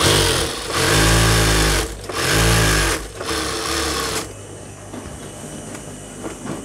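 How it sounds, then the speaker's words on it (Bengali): A sewing machine runs loud and close, putting a double seam into palazzo pants in two surging bursts with a pulsing chug. Quieter mechanical clatter and fabric handling follow. "আমি আর একটা সেলাই দিতেছি"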